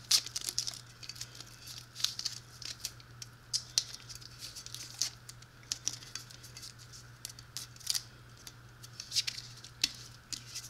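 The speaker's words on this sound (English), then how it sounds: "So let me just tape around this" Adhesive tape is pulled and wrapped around a tumbler, producing faint, irregular crinkling and tearing rustles with sharp little peeks of sound over a low steady hum.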